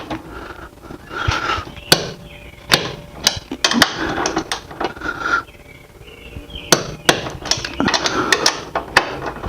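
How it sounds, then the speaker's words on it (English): A torque wrench tightens a shock bolt on a Mazda CX9, giving a run of close, sharp metallic clicks and ratcheting ticks in irregular clusters with brief pauses. "go ahead and hit that with your torque wrench"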